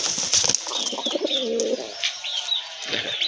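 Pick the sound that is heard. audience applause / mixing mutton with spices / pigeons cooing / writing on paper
pigeons cooing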